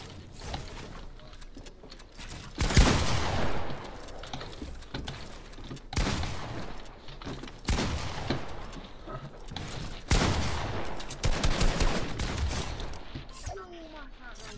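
Bursts of gunfire from the video game Fortnite crackle in loud, dense volleys separated by short pauses, with game effects in between.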